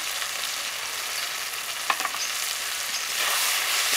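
A spice paste of turmeric and chili powder fries in a pan with a steady, bright, hissing sizzle, with a couple of soft stirring knocks midway and the sizzle swelling louder toward the end; no one speaks.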